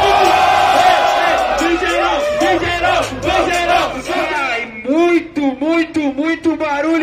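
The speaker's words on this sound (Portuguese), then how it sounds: "Muito barulho para Japa e Yogi!" Crowd at a Brazilian freestyle rap battle, Batalha da Leste, erupting in loud rhythmic chanting and cheering, with voices shouting in bursts that swell toward the end.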